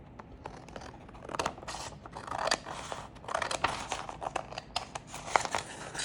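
Scissors snip through paper to cut a pocket shape, a close, quiet run of short crisp cuts and rustles in an irregular rhythm with no talking.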